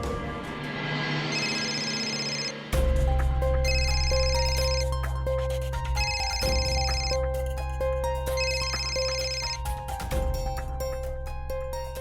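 Telephone ringing after a call is placed in a Marathi TV serial, a repeating electronic ringtone melody played in several bursts over a sustained background music bed, with no speech.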